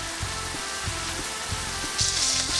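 Turkey meatballs fry in oil in a pan with a steady close sizzle and crackle, joined by a soft rhythmic scraping or tapping and a louder hiss near the end.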